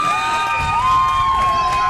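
Crowd at a Homer-Center vs River Valley high school football game, a steady wash of cheering and mixed voices held at a fairly even level throughout, with a few sustained tonal calls standing out above the roar.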